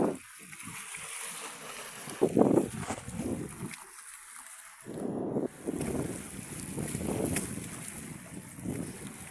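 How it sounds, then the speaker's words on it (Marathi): A boat moves across the sea, its engine and hull wash carried under gusting wind that buffets the microphone, with splashes and brief pauses in between. "तिकडे पण एक बोट चालली"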